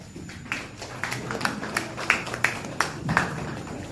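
Scattered applause from a modest audience at a religious community's first-anniversary celebration, a handful of distinct claps standing out over a faint background murmur.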